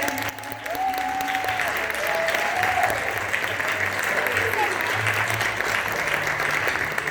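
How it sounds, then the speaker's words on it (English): Audience clapping steadily and loudly throughout at a live music event celebrating African-American music, with crowd noise and some voices mixed in under the applause. "also want to give our extreme gratitude and a round of applause to our sound guy, Nick!"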